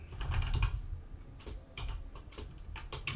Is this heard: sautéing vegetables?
no